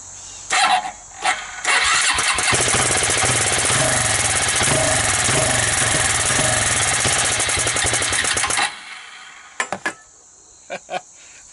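An old Suzuki Quadrunner 250 4x4 ATV, being revived with starting fluid, gives a few short cranking coughs, then catches and runs loudly for several seconds with a rough, rapid chatter before cutting off, leaving a few brief sputters.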